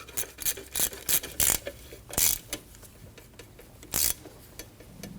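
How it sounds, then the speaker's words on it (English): A ratchet snugs down the alternator bolt on a 2003-2006 Subaru Baja 2.5L H4, giving several quick bursts of close, crisp clicking with short pauses between strokes and no talking. "Tighten down the alternator bolt."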